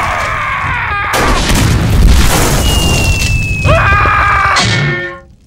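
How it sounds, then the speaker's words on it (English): A cartoon firework strapped to a finger bursts with a loud boom and crackling blast, followed by a whistling streak and another burst before the noise cuts off abruptly. "Jimmy, the firework's attached to your finger"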